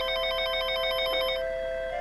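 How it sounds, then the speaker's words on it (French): A telephone rings in a French short film, a loud close electronic ringtone pulsing in rapid repeated bursts over a sustained tone, heard alone with no voices. "Le voilà, le fameux coup de téléphone."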